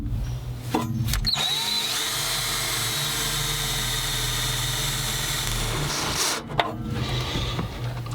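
A power drill with a step bit whirs steadily as it cuts a hole for a 1-inch grommet on a trailer hydraulic brake setup. Short starts and stops bracket one long, loud run.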